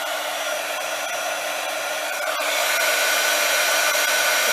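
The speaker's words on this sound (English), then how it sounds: "I'm going to be drying it, and you'll be able to see." A hair dryer blows steadily to dry stencilled ink on a card, a close, continuous whooshing roar that steps up slightly louder partway through, with no talking.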